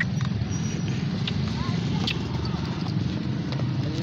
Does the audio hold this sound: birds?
no